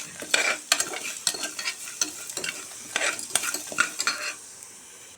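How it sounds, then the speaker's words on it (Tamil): Ginger roasting in a pan over a low flame for ginger chutney, a soft sizzle broken by frequent close stirring and scraping strokes of a utensil against the pan, with no talk. "அந்த இஞ்சி கொஞ்சம் வரும் சிம்மில் வச்சு செய்யுங்க"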